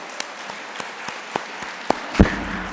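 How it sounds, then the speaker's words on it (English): Sparse, scattered claps ring out in a ceremony hall at an annual recognition event, about eight isolated slaps spaced irregularly, with a slightly heavier clap near the end. "I think we can give a big clap for that"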